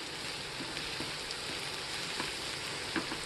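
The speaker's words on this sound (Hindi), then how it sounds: "हमने 3 प्याज मीडियम साइज़ के बारीक काट के रखे थे, उसको डाल देंगे। इस प्याज को थोड़ी देर पकने देंगे हम" Three medium onions, finely chopped, fry in a pan for egg curry, giving a steady, close sizzle with scattered small crackles and pops.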